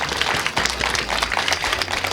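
An audience at the grand opening of a multi-ethnic costume museum applauds the costume maker in a brief, dense burst of clapping that fills the room.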